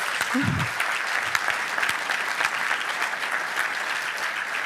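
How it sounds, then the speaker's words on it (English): Steady applause from the audience at a packed annual charity fundraiser celebrating an organisation's 20th year, a dense wash of many hands clapping that holds level throughout, with a brief voice near the start. "I echo that round of applause"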